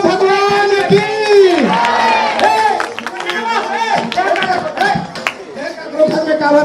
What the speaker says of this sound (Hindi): जोरदार जयकारा करने हो ताली बजाने भी सबके सब तैयार होगा